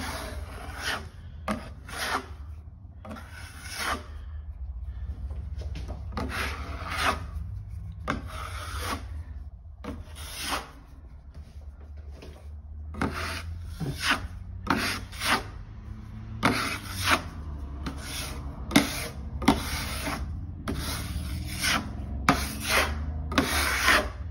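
Scraper dragging builders bog filler across a hole in a door, producing repeated rasping rubbing strokes in an irregular rhythm, close and fairly loud, with no talking.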